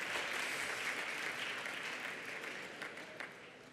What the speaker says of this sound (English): we ask you to join us in giving him a really warm welcome as well as a round of applause